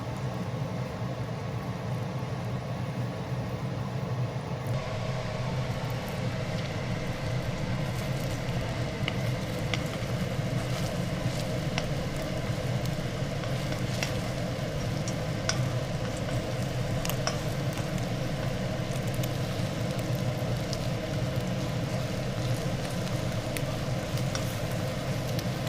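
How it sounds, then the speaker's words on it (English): Eggs stir-fried slowly in hot oil in a wok for a tomato-and-egg scramble, giving a steady, even sizzle that holds nearly level throughout, close and moderately loud, with no talking. "we can put the rest of the eggs in. We're going to slowly stir fry the eggs."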